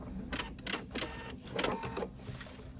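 A sewing machine runs a row of stitching along a grid, a steady close mechanical whir with rhythmic pulses that swell and ease throughout.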